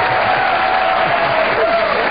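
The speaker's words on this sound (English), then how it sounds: "How many people applaud?" A studio audience at a political talk show applauds, with dense, steady clapping from many hands at close range and no voices heard.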